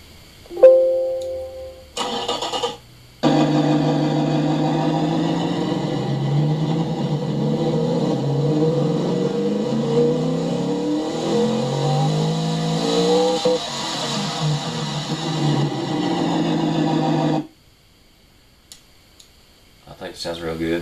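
A 1970 Ford Mustang engine in the Automation car game, fitted with race tubular headers and a high-flow, straight-through dual exhaust, roars loud and steady for about fourteen seconds, with rising and falling rev sweeps, then stops abruptly.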